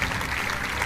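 Audience at a French Green party political speech claps steadily, a dense wash of applause from a crowd, sustained and fairly loud with no break.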